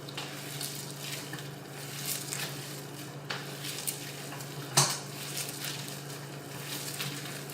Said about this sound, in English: We mixing all the seasonings and the oil and everything in real good